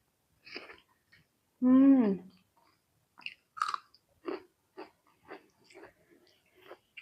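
Close, quiet chewing and smacking bites come in a series of short bursts as rice with freshwater wetland fish is eaten by hand, with a brief voiced hum or murmur early on.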